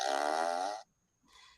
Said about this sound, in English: it has like 20 different farts on there